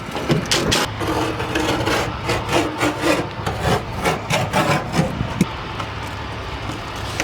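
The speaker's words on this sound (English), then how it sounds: "we're gonna start taking this plywood off" Plywood panels are pried and peeled off the interior wall of a van, producing close, irregular wooden creaks, scrapes and cracking snaps in quick bursts.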